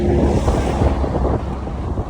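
Heavy wind buffets the microphone in a loud, continuous low roar with gusty swells throughout.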